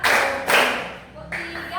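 A class in a mathematics lesson claps hands in counted claps, a few sharp bursts of clapping mixed with voices over a short stretch.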